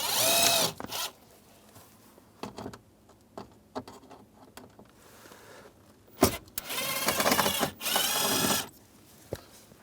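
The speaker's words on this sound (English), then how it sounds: "Use a Phillips head screwdriver, take those out." Power screwdriver work on a Cadillac Escalade interior panel: short bursts of whirring, the longest near the end, with scattered clicks and clacks of screws and plastic between them, close and fairly quiet.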